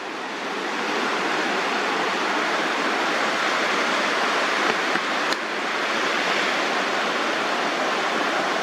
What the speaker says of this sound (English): There's a lot of water movement.